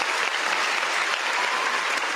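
A short burst of steady applause, dense clapping from a crowd, loud and continuous with no voices.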